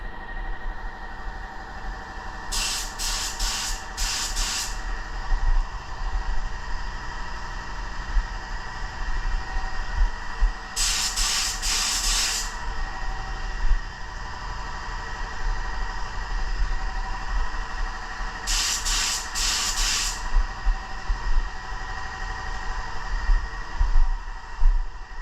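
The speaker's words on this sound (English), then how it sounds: "I'm just gonna do it with silver and just spray the candies" Three short bursts of a spray gun laying candy paint over silver on a show car, each hiss lasting about two seconds and spaced well apart over a steady low background hum.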